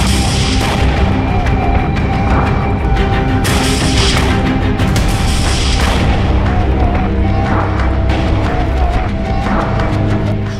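An Israeli tank is hit in an ambush and the explosion roars loud and close, a heavy boom rolling into sustained rumbling blasts with no voices.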